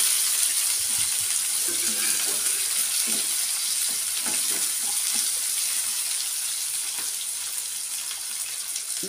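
Chopped onion frying in a pan right after garlic for a potato curry, a loud, steady sizzle with hiss across the whole stretch and a few soft clicks of stirring, with no talk.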